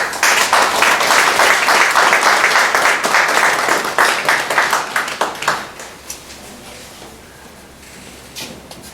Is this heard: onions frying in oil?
no